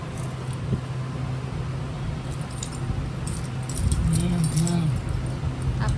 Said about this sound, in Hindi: पापा का चाबी पकड़